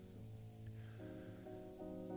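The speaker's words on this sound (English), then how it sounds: "crickets chirping in the distance" Steady, faint crickets chirp in short, evenly spaced pulses beneath a constant outdoor hum at dusk near a porch, with no talking.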